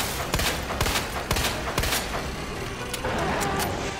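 Rapid, dense gunfire in the survival-horror game Resident Evil 2 Remake, Leon's campaign during the Birkin G5 boss fight, with sharp repeated shots cracking close and loud over a continuous roar of action for several seconds.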